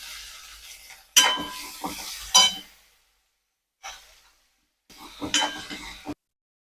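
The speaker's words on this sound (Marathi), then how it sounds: "कांदा आता शिजलाय त्यामध्ये मी ही भिजलेली चण्याची डाळ टाकते" Soaked chana dal goes into a pan of cooked onion: short bursts of sizzle and scraping with light utensil clinks, separated by silent gaps.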